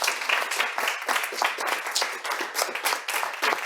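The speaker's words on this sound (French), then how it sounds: "est-ce que vous pouvez vous applaudir?" An audience at a nutrition coaching session claps for itself, lively uneven clapping with individual hand claps standing out, rising and falling over a few seconds.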